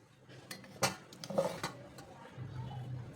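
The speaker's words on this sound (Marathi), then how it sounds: "दही मिक्स करायचं आहे" A spoon clinks and scrapes against a bowl while curd is stirred into idli flour, a few soft knocks and clatters close by, fairly quiet.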